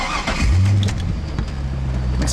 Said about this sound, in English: Makes a pretty nice sound from the exhaust too when you start it up